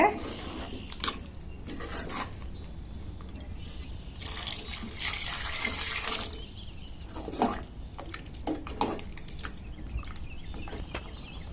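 Water goes into a pot of sambar in a kitchen with soft pouring and splashing, punctuated by occasional clinks of utensils against the pot, fairly quiet and close.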